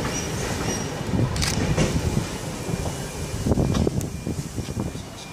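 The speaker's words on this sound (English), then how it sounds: "Train arriving into platform 1 is a Central service." A train pulls into a platform at Adamstown station near Sydney, loud with a steady rumble and clattering wheels, and a few squeals near the end.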